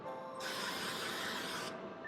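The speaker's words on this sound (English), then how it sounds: "I'm just going to go ahead and spray glue this in place." Spray glue hisses from an aerosol can in one steady burst of about a second and a half, close and alone, while a part is glued in place during a button control panel build.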